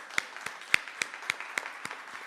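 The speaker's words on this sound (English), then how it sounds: "Y'all go ahead and give them a round of applause" Sparse applause at a district attorney's town hall thanks panel members, a handful of distinct, evenly spaced claps ringing out close by in a quiet room.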